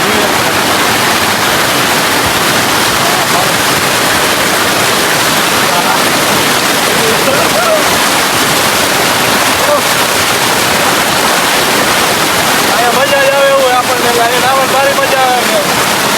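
A strong current of stream water rushes loudly and steadily close to the microphone, in a natural bathing spot used during summer heat. A voice rises briefly over the roar near the end.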